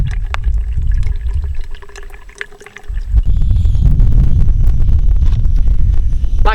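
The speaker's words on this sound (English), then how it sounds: "I've managed to get my water bottle filled up." Water pours into a bottle during filtering at a wild camp on Bleaklow, starting with a softer trickle and low gurgles, then a louder, steady close-up stream after a brief pause.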